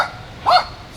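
A dog gives a single short bark in the middle of an otherwise quiet moment at an RV campsite at Tyler State Park, the bark close and fairly loud.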